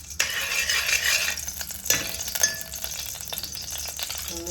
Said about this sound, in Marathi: थोडंसं तूप घालते आणि हे मखाणे घालूया